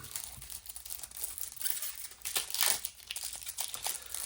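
Close, crisp crinkling and tearing of a foil trading card booster pack wrapper for the Ward TCG, a series of rustling rips and crackles building to a louder tear near the middle, heard alone without talk.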